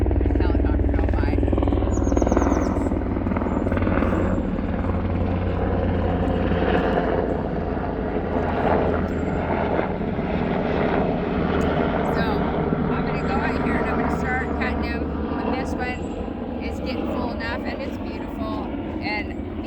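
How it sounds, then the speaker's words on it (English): A helicopter's engine and rotor drone rumbles steadily throughout, fairly close, while a person talks over it. "a helicopter go by"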